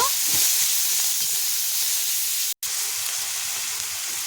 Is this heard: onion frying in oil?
yes